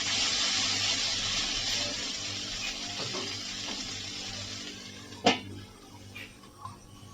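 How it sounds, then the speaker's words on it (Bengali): Mustard-based spice paste sizzles steadily in a pan while vegetables are being cooked, a close, continuous frying hiss with a single sharp clink of a utensil near the end. "মশলাটিকে আমি ভাজা ভাজা করে নেব।"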